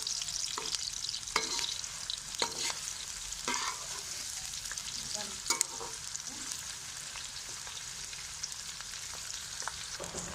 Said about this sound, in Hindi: प्याज को भी अच्छी तरीके से फ्राई करेंगे।